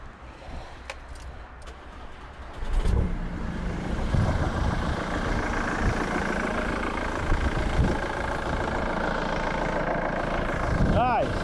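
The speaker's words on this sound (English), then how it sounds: "I'm going to start my car first because I need the battery to be good on it." A car engine starting and then running at a steady idle, heard up close in a home garage during a jump starter test, with a brief crank giving way to a constant rumble and a faint rising whine near the end.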